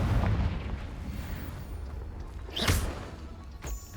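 The Confringo fire spell from the video game Hogwarts Legacy bursts with a rumbling, boomy explosion, followed by a sharper blast and crackle, layered over a dense, continuous game soundscape.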